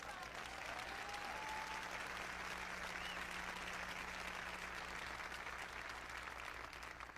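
An audience applauds in a sustained, even wash of clapping that carries on without pause, with faint crowd murmur underneath.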